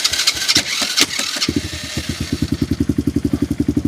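A Tao Tao Coleman 125 ATV engine catches without choke after a few cranking pulses, then settles into a loud, close, steady rhythmic idle thump.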